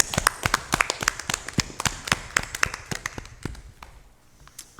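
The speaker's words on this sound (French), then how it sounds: "je voudrais bien une bonne main d'applaudissements pour le comité organisateur d'Aricana" Applause for an organizing committee at a municipal council meeting: a short burst of sharp, uneven clapping from a small group in a meeting room, thinning out and fading toward the end.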